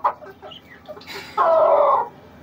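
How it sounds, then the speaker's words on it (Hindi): Kadaknath rooster and hens in a poultry pen give a few soft clucks, then a loud sustained squawking call near the end, close and alone without talk. "एक कड़कनाथ का मुर्गा है।"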